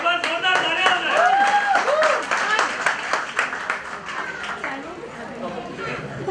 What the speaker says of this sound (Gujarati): આપણું એક વાર જોરદાર તાળીઓ